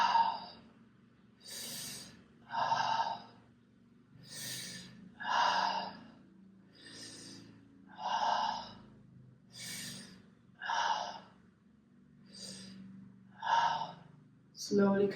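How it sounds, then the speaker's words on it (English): Slow deep breathing during a fascial stretch exercise, with the head turned over the shoulder: a steady series of about eleven breathy inhales and exhales at regular intervals, close and clear, with a low hum between them. "Breathe 6 times."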